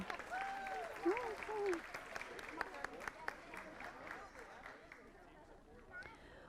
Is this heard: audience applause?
yes